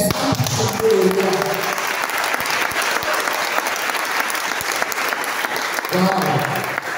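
A church congregation breaks into loud, sustained applause and cheering that fills the hall, with voices rising through the clapping near the start and again toward the end.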